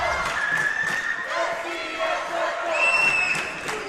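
Crowd noise from a packed gym at a varsity boys basketball game between Heartland and Suburban, a steady roar of cheering and shouting in the final seconds of a close game, with a commentator talking over it.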